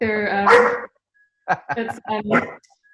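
A pet dog barks loudly and close by in a quiet indoor room, giving one long yelping bark followed by a quick burst of several sharp barks.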